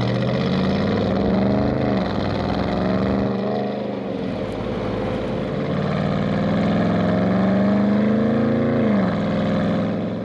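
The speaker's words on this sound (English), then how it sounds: "leaving that signature exhaust note in your wake never gets old either" A deep, loud V8 exhaust of a 2021 Dodge Durango R/T SUV rumbles steadily throughout, rising and falling slightly in pitch as the vehicle accelerates on backroads, with no talking.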